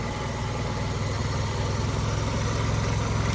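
A Suzuki Samurai engine idles steadily up close, a continuous low, even rumble with a faint mechanical hum and no revving.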